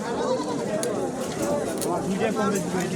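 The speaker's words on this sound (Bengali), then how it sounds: "এখানে আসলে ভালো ভালো ছাগল আছে দেশি ছাগল" Goats bleat at a busy village goat market in Badarganj, Rangpur, Bangladesh, where indigenous goats are for sale. Their calls rise through steady crowd chatter and nearby talk.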